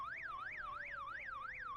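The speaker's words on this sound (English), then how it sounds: "Just with a car alarm noise." A horn plays a car-alarm tune at a street protest rally. It is a loud, continuous warbling wail that sweeps up and down in a steady, repeating rhythm, with no talk over it.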